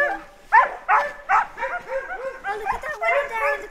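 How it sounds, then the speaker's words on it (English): Huskies bark excitedly before a sled ride in Lapland, Finland: a burst of loud, close yips and barks, several in quick succession, then overlapping excited yelps from the pack. "I think they're all very cute to go because they're all barking."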